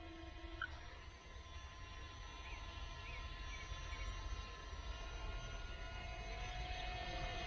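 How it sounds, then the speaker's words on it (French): A FIMI X8 Mini drone flies off, a steady whirring buzz of rotors held at a constant level across the whole stretch, with no voices over it. "Ok, le drone y va."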